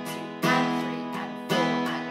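Two strong down strums on an acoustic guitar about a second apart, each accented and ringing out full and bright, close up with no voices.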